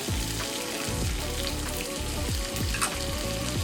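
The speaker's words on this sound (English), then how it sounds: "Now I'll put the tomato paste to our sauteed onion" Tomato paste sautéing with onion in a hot pan, a dense continuous sizzle with regular scraping stirs, close and alone.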